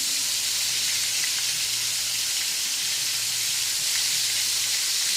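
Copycat orange chicken pieces browning in a pan give off a dense, even sizzle of hot oil, steady and close, with no talking.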